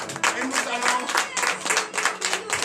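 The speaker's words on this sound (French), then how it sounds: "veuillez vous lever et donner de vives acclamations au Seigneur Jésus" A congregation claps and cheers together, a dense wash of applause mixed with voices calling out.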